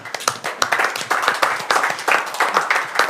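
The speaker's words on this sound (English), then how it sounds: "this is worth a very big round of applause here from the media center for our champion" Reporters in a DTM media center at Hockenheimring applaud the champion with a steady, close round of clapping, individual hand claps standing out in an even rhythm throughout.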